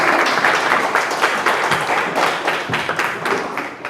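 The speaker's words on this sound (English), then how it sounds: "Okay, now you can clap if you like." Applause from a crowd at a school board meeting, dense steady clapping that holds for several seconds and tapers slightly toward the end.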